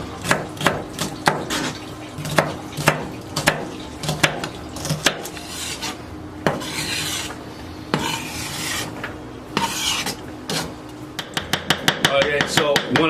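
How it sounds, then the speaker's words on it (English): A knife chopping onions on a cutting board, sharp rhythmic strikes at first, then scraping, finishing with a rapid burst of quick chops. "when I'm chopping onions and everything"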